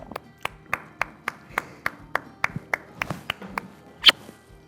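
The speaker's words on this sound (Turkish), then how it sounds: "Ben bunu alkışlarım işte bak." A single person claps by hand in a Turkish reality dating-show studio, about a dozen sharp, evenly spaced claps close to the mic with faint background noise, ending on one louder clap.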